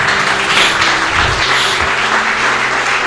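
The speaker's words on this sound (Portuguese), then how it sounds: "Aplauda o Senhor." A church congregation applauds during an Easter service, giving a dense, continuous wash of many hands clapping together throughout.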